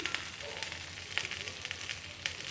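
Chopped onion and garlic dropped into hot oil with black cumin seeds, giving a faint, steady sizzle with scattered crackles and pops throughout.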